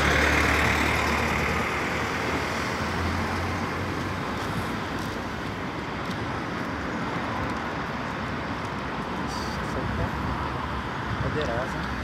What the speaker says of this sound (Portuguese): Chegando mais um trem aí, pessoal.